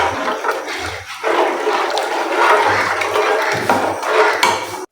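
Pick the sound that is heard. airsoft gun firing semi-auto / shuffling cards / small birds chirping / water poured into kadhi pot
water poured into kadhi pot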